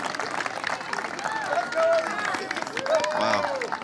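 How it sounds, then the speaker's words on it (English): A crowd at a CIBC PPA Finals pickleball match claps and cheers after a point, a steady wash of applause under excited commentary. "We all got to applaud for that"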